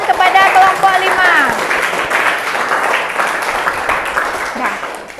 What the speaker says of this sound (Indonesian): beri tepuk tangan kepada kelompok 5.